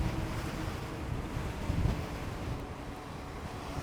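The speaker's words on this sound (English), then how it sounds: "Wow, the wind's right in my face. Strong wind, probably 20 miles per hour" Strong headwind of roughly 20 to 25 mph buffeting the microphone of a rider on a Wired Cruiser eBike heading downhill, a steady loud rumbling roar with gusty swells and no speech.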